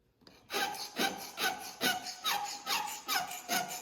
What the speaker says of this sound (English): I'm going to just sharpen the whole thing up with a file.